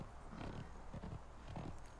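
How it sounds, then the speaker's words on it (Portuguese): A horse trots along in Conan Exiles, quiet muffled hoofbeats in an uneven rhythm over roughly two seconds, faint and close. "Deixa eu botar meu cavalo aqui, que vai ser mais rápido."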